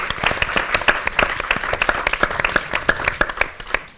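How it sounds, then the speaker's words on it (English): A conference audience at a culture event plenary session gives a round of applause for the sponsors, a close, lively burst of many hands clapping steadily for about four seconds before tapering off. "so a little round of applause for them"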